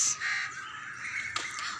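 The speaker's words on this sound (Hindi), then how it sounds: "यहाँ पे सन्नाटा, बिल्कुल खामोशी, परिंदों के आवाज़" Crows cawing outdoors in a quiet green place, a couple of harsh caws at the start and another near the end over faint background ambience.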